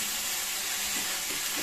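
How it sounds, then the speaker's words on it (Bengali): Mushrooms frying in a pan with a little salt and sugar give a steady, fairly loud hiss and sizzle that runs without a break and without any voices. "এবার এটা অল্প পরিমাণ নুন আর মিষ্টি দিয়ে মাশরুমটা একটু ভাজা হতে দেবো।"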